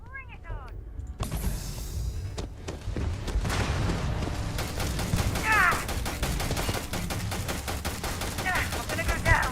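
Rapid bursts of gunfire in the video game Starfield, dense repeated sharp cracks through most of the clip with several distinct single shots, loud and close amid combat noise, with brief voices in the background.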